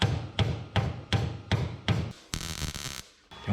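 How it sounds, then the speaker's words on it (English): A hammer strikes the metal body panel of a 1967 Toyota Stout pickup in steady, evenly spaced blows, close and fairly faint, followed by a brief rougher scraping stretch. "Down here towards the end, we just keep hammering."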